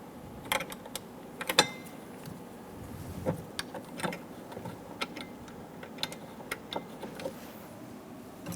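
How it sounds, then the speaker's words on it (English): A ratchet clicks in quiet, irregular ticks while snugging bolts on a rear impact airbag sensor bracket of a 2014-2018 Chevrolet Silverado 1500, close up and faint with small clunks in between. "Snug the bolts down."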